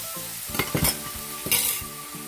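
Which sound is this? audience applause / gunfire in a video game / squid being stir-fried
squid being stir-fried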